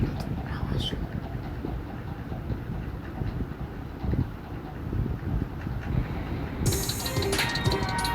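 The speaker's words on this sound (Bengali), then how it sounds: "ট্রেন এত তাড়াতাড়ি চলে আসে, ঘটনাটা কি?" A train rumbles in at a station with a low, steady rolling roar and faint clatter, a brighter hiss of brakes or wheels rising near the end.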